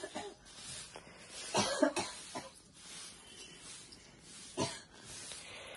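A person coughs nearby in a quiet indoor space: a sharp double cough early on, then another single cough a few seconds later, with soft breathing and faint room noise in between.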